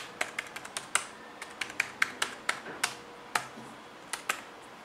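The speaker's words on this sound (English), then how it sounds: "still you can get used to the typing" Quick, crisp keystrokes clatter in irregular bursts, close and fairly quiet, with short pauses between runs of typing on the compact keyboard of an Alcatroz Xplorer Dock 2 laptop.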